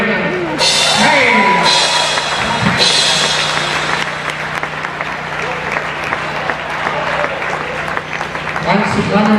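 A circus audience at Zippo's Circus applauds the ring crew with loud, continuous clapping and crowd noise. Shouting voices and whistles cut through the din near the start and again at the end.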